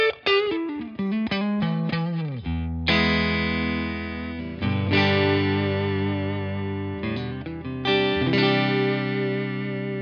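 A Fender American Professional Series Stratocaster plays quick notes then sustained chords with a hollow, nasal, woody, slightly distorted tone, ringing with effects and no voices.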